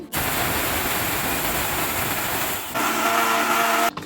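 A grinding machine powdering black gram lentils gives a loud, continuous whirring roar that shifts in pitch partway through, taking on a more tonal motor whine before stopping abruptly.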